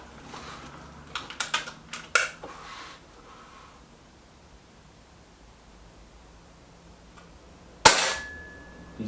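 Kral Puncher Maxi air rifle fired at a target in a head-to-head contest, giving a sharp close crack near the end, preceded by a few quieter clicks and handling taps.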